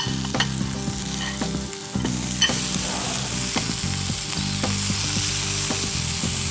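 Garlic, spring onion and chili stir-fry in a hot wok with a loud, continuous sizzle, broken by repeated clinks and scrapes of a utensil against the pan, with no voices.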